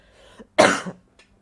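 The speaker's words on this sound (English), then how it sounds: "Sorry for the coughing." A single sharp, close cough bursts out briefly, with a faint throat noise just before and a tiny sound after, in otherwise near silence.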